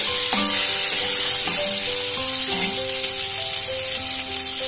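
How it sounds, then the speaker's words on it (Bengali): Steamed potato and papaya sizzle and fry with onion and garlic in a pan, a loud, constant crackle with occasional stirring clinks and no voices. "তাই আমি একবারে এই পেঁয়াজ আর রসুনের সাথে একবার কষিয়ে নিচ্ছি।"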